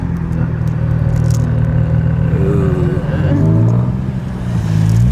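A 1994 Toyota Chaser pulls away slowly in first gear, its low engine rumble steady and close, with the pitch climbing toward the end as voices talk over it.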